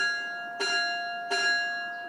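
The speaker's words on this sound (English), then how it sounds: "3 bells. That's the signal. We'll be docking soon." A Staten Island Ferry bell rings out twice, signalling that the boat is about to dock. Each strike is clear and metallic and hangs in a long, even tone.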